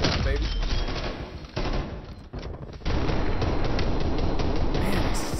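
Gunfire in the Black Ops Cold War shooter, loud dense bursts of shots and rattling fire with a brief lull midway before it resumes at full strength, with a voice speaking underneath.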